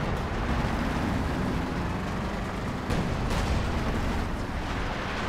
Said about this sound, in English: Oh no, another nasty Werfer barrage.